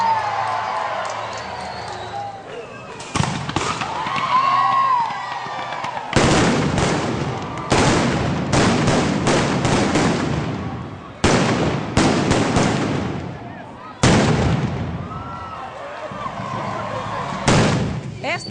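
Festival figures blown up with fireworks at a midday event in Itu, Brazil: repeated loud, sharp bursts of explosions in clusters, with crackling and crowd noise around them.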